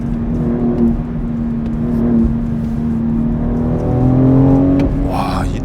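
A BMW X3M SUV engine and exhaust drone steadily up close, the tone climbing and swelling as it accelerates hard, with a louder push toward the end.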